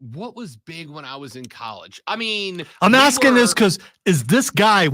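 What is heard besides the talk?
No everyday noise stands out behind the speech.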